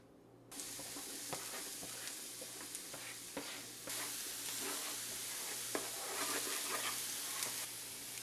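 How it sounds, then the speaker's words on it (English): Onions and jalapenos sizzle steadily in avocado oil in a pan, a continuous close frying hiss with occasional stirring clicks and pops, no talking. "I'm gonna go ahead and cook the onions and jalapenos."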